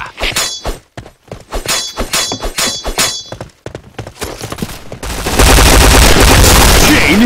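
Rapid gunfire bursts from the first-person shooter game Point Blank, loud close shots in an uneven rhythm with impact and breaking sounds, ending in a sustained dense roar of noise.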